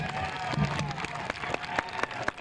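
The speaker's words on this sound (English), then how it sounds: "do turn and face this audience who has cheered for you." Medieval-fair audience at a Renaissance fair knights show clapping and cheering, a steady crowd wash with scattered sharp claps and shouts, moderately distant.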